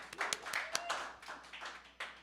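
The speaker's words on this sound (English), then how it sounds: "Give yourselves a round of applause for coming out in the cold." Small audience at a live concert in a venue called The Underground clapping sparsely, a handful of distinct nearby claps and taps rather than a full roar, fading after a couple of seconds.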